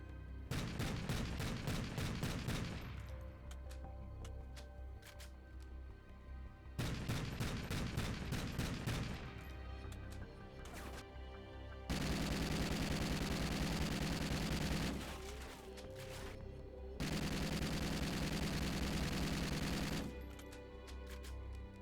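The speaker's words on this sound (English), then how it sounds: "I'm going to show you the gun sounds and reloads, just so you get an idea for the weapons." Rapid gunfire bursts from an assault rifle in Call of Duty: Ghosts, loud and close, alternating with sustained firing stretches and short mechanical reload gaps between volleys.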